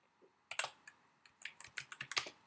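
Typing on a computer keyboard while setting up autocorrect in Word 2011 on a Mac: a steady run of close, light key clicks with slightly uneven rhythm, no talking.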